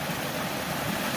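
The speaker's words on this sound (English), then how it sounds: "a bridge overlooking this beautiful waterfall" A waterfall beside an 1800s water-powered chestnut medicine mill, seen from a bridge above it, gives off a steady, loud, broadband roar of rushing water that holds constant with no voices over it.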